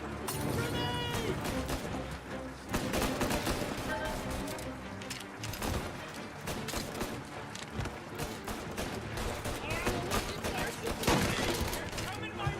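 Heavy gunfire in a video game firefight in Mafia Definitive Edition, with dense overlapping bursts and rapid shots filling the clip under shouted voices.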